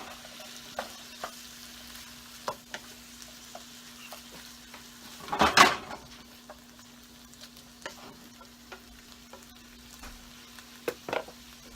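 Red pepper added to pork fried rice hisses in a pan, a faint steady sizzle marked by light stirring clicks and one louder burst of frying in the middle.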